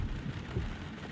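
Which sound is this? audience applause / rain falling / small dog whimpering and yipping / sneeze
rain falling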